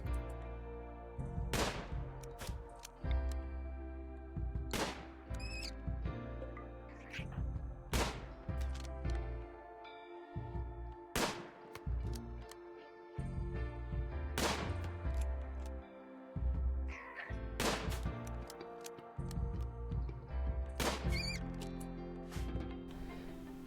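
Rifle shots in the video game Rimworld, fired at snow hares on an ice sheet: several sharp, loud cracks spaced a few seconds apart over a steady bed of game music.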